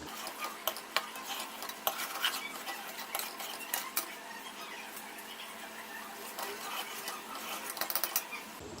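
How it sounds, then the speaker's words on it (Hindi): Chicken karahi being sautéed in a handi pot, with continuous close scraping, clattering stirring strokes and a light sizzle underneath, at moderate loudness. "इन तमाम चीज़ों को हम अच्छी तरह मिक्स करेंगे और थोड़ी देर हंडिया को भूनेंगे"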